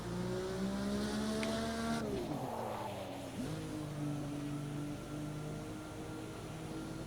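IndyCar race car in a racing video game driving on a snowy track: a loud, steady engine drone with rising and falling revs, a sharp downshift and pitch drop near the middle, then a sustained high whine.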